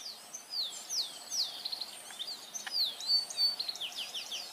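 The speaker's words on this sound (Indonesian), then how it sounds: "Burung kenari disukai manusia karena suara yang merdu" A canary sings a run of bright, high chirps and trills, fairly close and steady, with no talking.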